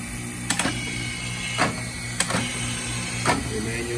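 Astro Feeder pump running, a steady mechanical hum punctuated by four sharp clicking bursts at irregular intervals, fairly close and alone with no talk.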